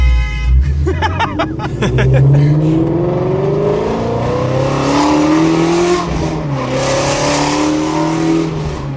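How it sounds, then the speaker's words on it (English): A Shelby GT350's V8 exhaust revs up with a deep, rising roar, then holds a loud, rumbling drone close by. "There's nothing like the sound of American muscle."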